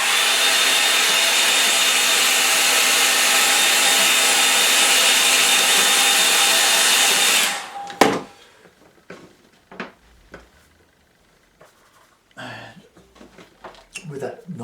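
A hair dryer blows loud and steady at close range over a green paint mix, then cuts off abruptly, followed by quiet clicks, taps and handling noises.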